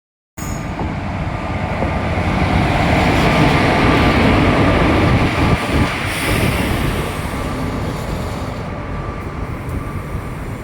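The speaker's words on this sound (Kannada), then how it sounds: "ನಮ್ಮ ಟ್ರೈನ್ ಬಂದು ನಿಂತ್ಕೊಂಡಿದೆ." A passenger train at a station on a trip from Tekal to Mysore pulls in and comes to a halt, producing a loud, steady rumble of wheels and carriages that holds close and continuous throughout, with no talking.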